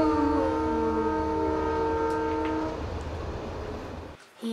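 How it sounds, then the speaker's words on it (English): A children's counting song uses a toy-train sound effect: a loud, sustained multi-tone train horn blares for a few seconds, then gives way to a rolling rail rumble that fades out. "The numbers train is coming."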